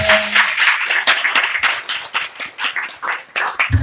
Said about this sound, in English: Clap your teachers who have been to